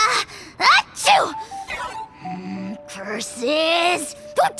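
A video game character lets out a loud, exaggerated sneeze in a cutscene, with a sharp inhale followed by a burst, amid other voiced gasps and vocal sounds.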